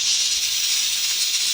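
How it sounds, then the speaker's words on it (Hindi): A pressure cooker on a full flame lets out a loud, steady hiss of escaping steam that continues for the whole moment. "कुकर जो है फुल आबो ताप से चल रहा है।"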